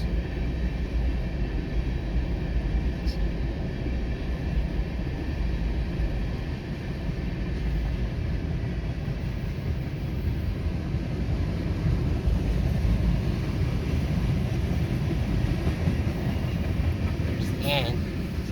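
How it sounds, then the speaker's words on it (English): Union Pacific and BNSF freight train boxcars roll past in a continuous heavy rumble and low roar that stays loud and even, with a brief high squeal near the end. "Boxcars."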